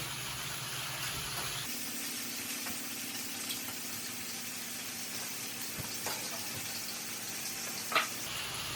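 Chicken sizzles in a frying pan with a soft, steady crackle close by, and a brief clatter near the end.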